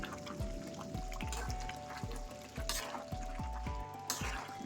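Chicken pieces are stirred and fried in a pan, with a rhythmic series of thick, wet scraping strokes about every half second over a constant sizzle, close and clear, no talk.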